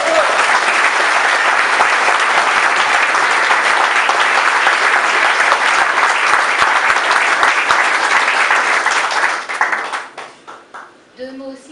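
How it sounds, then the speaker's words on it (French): Loud, sustained applause from a large audience at a political rally, dense clapping that runs steadily for about nine seconds before thinning out and fading, with some crowd voices mixed in. "Un gros applaudissement pour Serge Warbeck."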